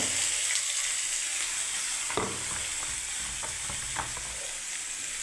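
Bottle gourd frying with panch phoron five-spice seeds in a pan: a steady, close sizzle with a few brief scrapes and clinks of stirring, and no voices.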